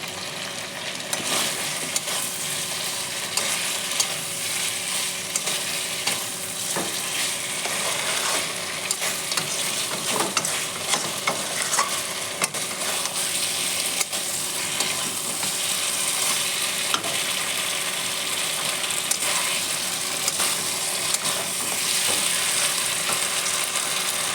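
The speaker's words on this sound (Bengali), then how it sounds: "মাংসটা আমার সুন্দর করে কষানো হয়েছে" Bihari-style mutton curry sautéing in oil, with steady sizzling and frying hiss and intermittent stirring scrapes against the pot, continuous and close throughout with no talking.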